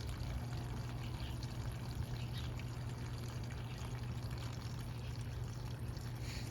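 Water flows steadily from a GROWNEER 550GPH submersible pump, a faint, continuous pouring rush that stays even and unbroken from start to finish.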